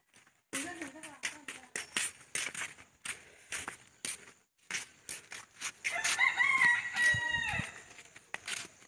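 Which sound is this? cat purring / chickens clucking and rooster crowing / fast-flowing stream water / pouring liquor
chickens clucking and rooster crowing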